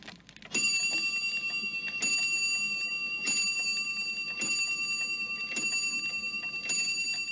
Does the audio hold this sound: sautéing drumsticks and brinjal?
no